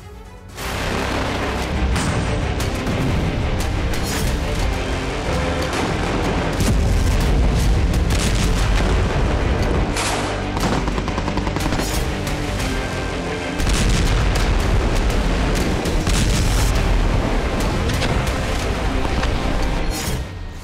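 Heavy bombing from an air strike on Khan Yunis produces a dense, continuous barrage of loud booms and rumbling blasts. The roar swells and dips briefly but barely lets up.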